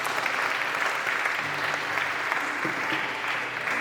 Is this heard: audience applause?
yes